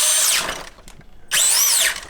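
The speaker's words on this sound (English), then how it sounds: "it's a combination of gears and more gears on top of more gears" High-pitched mechanical whirring from an RC crawler's stacked-gear gearbox rises and falls in two bursts with a brief pause between, close and loud, like small gears spinning up under load.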